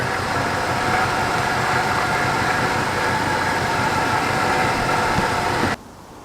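A car engine idles steadily after an exhaust leak repair, a continuous even rumble close by that holds for almost six seconds before cutting off abruptly.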